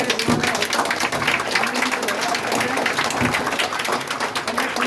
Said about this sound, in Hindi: ताली बजाएंगे पुनीत के लिए